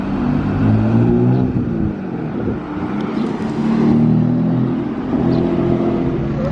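An Audi RS3 roars past loudly, its engine note swelling and fading with a brief dip and a second surge. The sound is close and dominant, with no voices over it.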